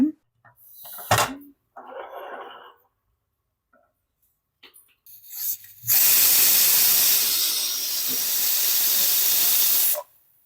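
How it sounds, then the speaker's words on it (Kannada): A pressure cooker cooking rice releases a loud, sustained hiss of steam lasting about four seconds before stopping abruptly, preceded by brief clicks, short hisses and scattered kitchen noises. "ಇವಾಗ ನಾವು ಇದನ್ನು 2 ವಿಷಲ್ ಹೊಡ್ಸೋಣ"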